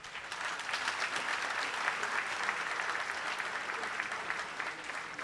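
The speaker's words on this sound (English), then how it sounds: "I'm expecting some applause for that." An audience at a Millennium Excellence Award ceremony honouring the Asantehene bursts into sustained, even applause, a dense crowd of clapping hands holding steady throughout.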